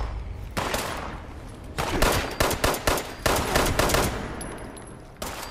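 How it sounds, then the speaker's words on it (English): Rapid gunfire in the video game Fallout 76, loud sustained bursts of automatic shots with brief pauses between volleys, close and dominant with no talk. "I'm getting shot at"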